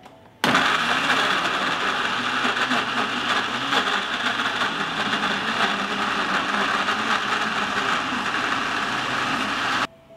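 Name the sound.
blender chopping strawberries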